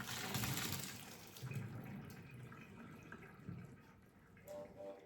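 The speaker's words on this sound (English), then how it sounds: "the important trick here to make this very chewy, you should wash it in a cold water." Cold tap water runs over cooked Korean glass noodles being rinsed in a sink, a steady gushing stream with some splashing, fairly faint, tapering off toward the end.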